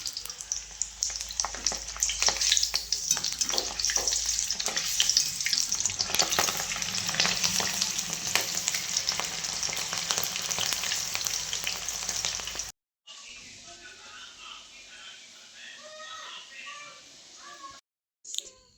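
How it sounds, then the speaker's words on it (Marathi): Green chillies deep-frying in hot oil beside batches of sabudana vada, a dense steady sizzle with scattered crackles for about thirteen seconds, then cutting to a quieter, thinner sputter. "ते आता वड्यासोबत तोंडी लावायला मिरच्या तळून घेते."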